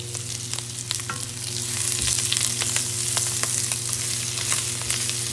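Shrimp and egg stir-fry in oil in a wok, giving a loud, continuous sizzle with frequent crackles and spatula scrapes, growing slightly busier midway; no speech.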